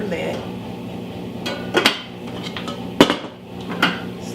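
Metal clanks and knocks as a 1.5-quart stainless saucepan with a strainer lid is picked up and handled, several sharp close rattles and taps over quiet room tone, including a loud clack near the middle.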